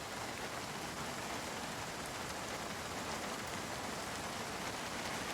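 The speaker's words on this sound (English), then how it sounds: "Yeah, man, it's been raining for days." Steady, even rain falls in the Project Zomboid video game, a faint, continuous hiss of drops with no breaks and no voices.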